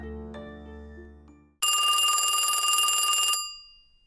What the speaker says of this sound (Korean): 오전 10시 32분에 전화가 왔습니다